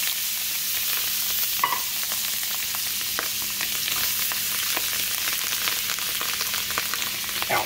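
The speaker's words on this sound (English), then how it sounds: "Let these mushrooms cook for a while." Two cans of mushrooms frying in plenty of fat in a pan for a keto dish, giving a steady close sizzle and crackle throughout with scattered pops and spatters, no talk.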